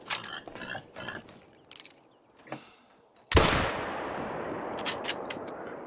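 A hunting rifle fires in theHunter: Call of the Wild, one sharp, loud report cracking out and trailing into a long decaying echo, preceded by scattered small rustles and clicks.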